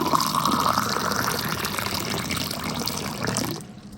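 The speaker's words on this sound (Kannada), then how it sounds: "ಬಿಸಿನೀರನ್ನು ಗ್ಲಾಸಿಗೆ ಹಾಕ್ಕೊಳ್ತಾ ಇದ್ದೀನಿ" Hot water pours into a glass in a continuous stream for a few seconds, close and steady, then stops abruptly.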